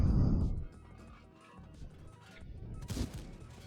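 Tank cannon shots go off in a video game: a loud boom opens the clip and a second sharp blast lands near the end, with rumbling engine noise between them.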